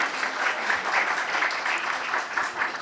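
A room applauding trainees at a course closing ceremony, many hands clapping in a steady, even roar that pulses slightly, moderately loud and unbroken throughout.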